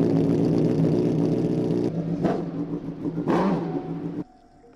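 A 1,996 cc V8 superbike engine built from two Yamaha R1 motorcycle engines revs loudly and up close, holding a steady harmonic roar, then dropping and climbing again in two sharp blips before cutting off abruptly to a low idle.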